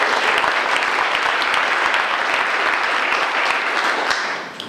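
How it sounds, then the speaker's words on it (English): A steady, dense burst of audience applause greets a police chief at a city event, loud and continuous for several seconds before tapering off at the end. "I would like to give him a round of applause."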